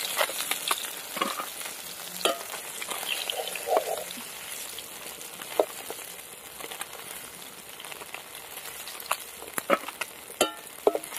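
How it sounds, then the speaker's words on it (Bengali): Bata fish frying in hot oil in a pan, a steady crackling sizzle with scattered pops and occasional spatula scrapes, close up and without talk. "মাছ ভাজা হয়ে গেছে, তুলে নেবো এবার।"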